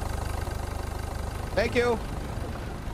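A truck engine idles in the Beer Factory game with a steady low rhythmic throb, running continuously while a voice speaks briefly near the end.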